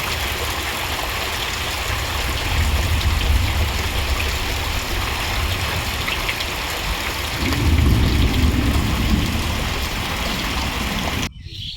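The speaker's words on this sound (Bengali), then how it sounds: "আবার বৃষ্টি হচ্ছে" Steady, dense rainfall hisses continuously for the whole stretch, with a heavier low rumble building midway before it cuts off abruptly at the end.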